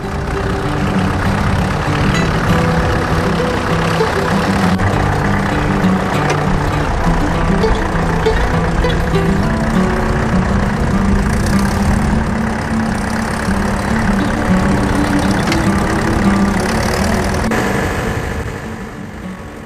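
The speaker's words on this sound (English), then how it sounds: "We thought we really ought to try the International 634 on the mole plough." An International 634 tractor engine drones steadily and loudly as it pulls a mole plough across a field during land drainage work, a continuous close low-pitched rumble with no break.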